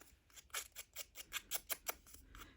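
Scissors snipping paper being trimmed for a junk journal, a quick run of about ten crisp, close cuts in steady rhythm, faint and alone.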